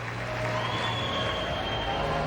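A gymnastics crowd at the 2003 World Championships applauds a routine, a steady wash of clapping and cheering that fills the arena evenly for the whole moment.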